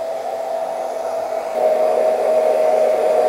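A hair dryer fitted with a diffuser runs continuously with a steady whirring hum, close by, stepping up slightly in loudness partway through, drying hair.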